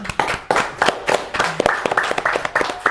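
A seminar audience claps in an uneven, close patter of separate hand claps for a few seconds, with no voices over it.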